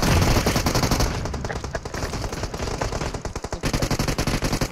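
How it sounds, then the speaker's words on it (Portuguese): Rapid bursts of automatic gunfire in PUBG Mobile rattle nonstop, loud and close, with a steady rhythmic stutter of shots and no talking. "Tem muito tiro na esquerda. Tem muito tiro nele."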